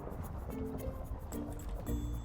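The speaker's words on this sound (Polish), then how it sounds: "Ej, patrzcie, wyleję wodę." Water is poured out in a short, splashy trickle with drips and liquid sloshing, fairly close, while a voice talks faintly underneath.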